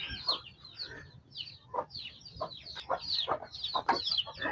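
Several chickens cluck and squawk close by in a rapid, overlapping chatter, with a faint low rumble beneath them.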